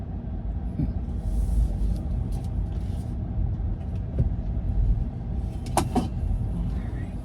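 Low steady road rumble of a newly acquired Tesla car being driven on errands around Atlanta, heard from inside the cabin, with a couple of brief clicks near the end.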